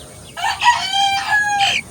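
A rooster nearby lets out a single loud, drawn-out crow with clucking, strained tones woven into the call.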